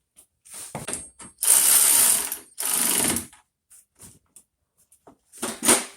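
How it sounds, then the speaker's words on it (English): Non-reversible ratchet wrench on a 10mm bolt while working on a 1989 Volvo 760 Turbo. It gives close, sharp clicking in several short bursts separated by pauses. "I cannot get the ratchet wrench off. And it's not one of those reversible ratchet wrenches, you gotta flip it over."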